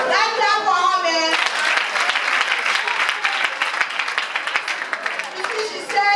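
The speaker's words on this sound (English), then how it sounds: "That clap for her, man." An outdoor crowd at an International Day of the Girl Child celebration in rural Montserrado, Liberia bursts into sustained applause after a brief spoken bit, dense clapping that holds steady then tapers near the end.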